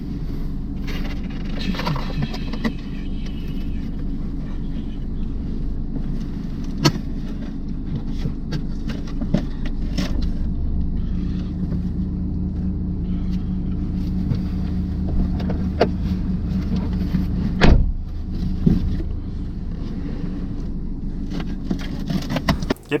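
Car interior on the road, a steady low engine and road rumble with occasional bumps and rattles throughout, continuous and fairly loud with no talking.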